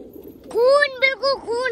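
A captive pigeon gives a few short, wavering coos close by, in quick bursts with brief gaps.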